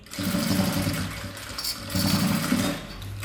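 Sewing machine running two bursts of rapid stitching as it topstitches a seam on a unisex zippered toiletry pouch with a gusset and zipper channel, loud and close with a short pause between runs.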